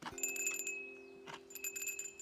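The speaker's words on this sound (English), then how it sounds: "This is not bells, this is chimes, wind chimes." Wind chimes ring on screen in an anime episode: a few bright, sustained metallic tones in two clusters, the second after a short pause, with a steady low hum underneath.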